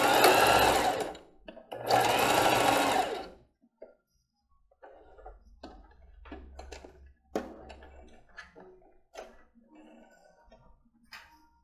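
A sewing machine stitches fabric for a children's panties sewing lesson, running in two loud, steady whirring bursts, then giving way to quieter clicks, taps and handling sounds.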